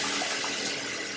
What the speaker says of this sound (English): I've just rinsed out the brush under the water